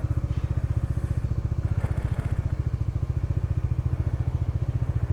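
A motorcycle engine runs steadily at close range, its rapid, even pulsing throb suggesting idle or a low-speed start on a forest road trip from Bandipur toward Wayanad, with no talk over it.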